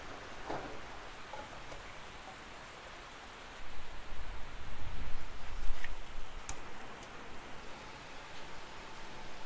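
Rain falls steadily during rainy-weather camping at a state park, a soft continuous hiss of drops with a brief louder swell of rustling partway through, no talk.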